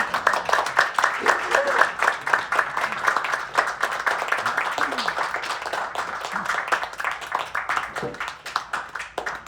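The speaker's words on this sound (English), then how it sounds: "Another round of applause, please" Sustained applause from an audience after a poetry reading by Brenda Hillman, dense steady clapping from many hands throughout, fairly loud and close, tapering slightly toward the end.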